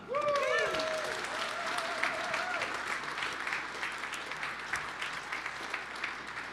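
Audience applause at a real estate investing event: a dense, sustained burst of clapping that fades slowly, with a voice over the start.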